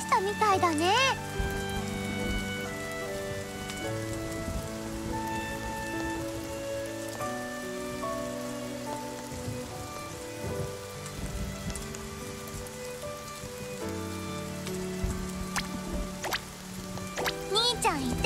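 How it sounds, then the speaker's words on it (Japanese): A heavy downpour in the video game Princess Connect Re:Dive hisses steadily under a gentle music score, with a voice heard briefly near the start and end. "わあ、雨も降り出した。 土砂降り。"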